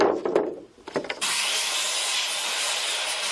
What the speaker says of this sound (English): The bamboo is cut into smaller pieces, the nodes are shaved, and the thickness and length are made uniform.